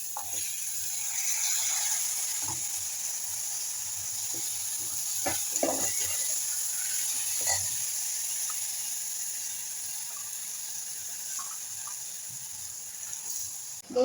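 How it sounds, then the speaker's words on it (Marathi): Mung beans sautéing in oil in a pan for a lunch dish give a soft, steady sizzle, with occasional stirring scrapes and clicks. "मूग छान असे परतून झालेले आहेत."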